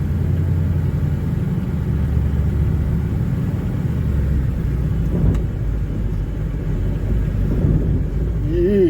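A 1970 Buick GS on a drive with its muffler hitting the drive shaft, a continuous low rumbling clatter under the road and engine noise, heard from inside the car with faint thumps throughout.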